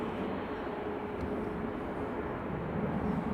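Aer Lingus Airbus A321neo arriving from Philadelphia and landing on the north runway at Dublin Airport, a steady broadband jet roar held at even loudness throughout, with no voices over it.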